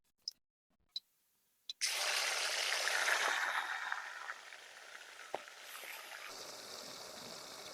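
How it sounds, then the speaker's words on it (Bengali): Chicken pieces drop into hot oil in a wok and set off a loud, steady broadband sizzle that slowly eases to a softer crackle, after a few sharp clicks and taps at the start. "এখন মাংসটা এর মধ্যে দিয়ে সুন্দরভাবে ভাজিয়ে নেবো।"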